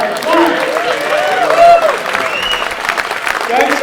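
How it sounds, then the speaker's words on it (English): Crowd at a freestyle scooter competition final in Milton Keynes applauds and cheers for the judges, steady clapping mixed with whoops and voices calling out throughout. "let's give a big round of applause to Mr. Alex George, Mr. Tony, and Mr. Alex W"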